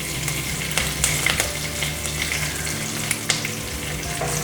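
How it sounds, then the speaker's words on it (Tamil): Mustard seeds, chana and urad dal, asafoetida and curry leaves fry in hot oil, a loud, continuous crackling sizzle dotted with sharp pops and spatters, with no voices. "எண்ணெய் சூடானதுக்கு அப்புறமா கடுகு, கடலைப்பருப்பு, உளுத்தம் பருப்பு, பெருங்காயம், கருவேப்பிலை வந்து கட் பண்ணி போட்டுக்கலாம்"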